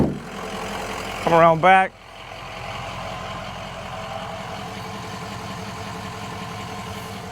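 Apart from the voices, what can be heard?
Ford Excursion 6.0L Powerstroke diesel engine idling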